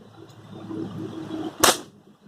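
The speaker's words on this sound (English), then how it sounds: "It's a gas gun." A gas-powered nail gun fires once into a poly tunnel frame, a single sharp loud crack against a quieter background murmur.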